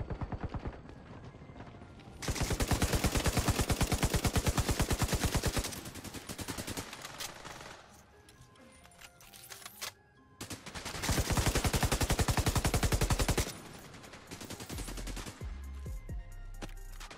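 Sustained submachine gun fire in The Division 2 Dark Zone PvP, two long rapid automatic bursts of several seconds each, loud and dense, separated by quieter gaps with scattered shots and game ambience.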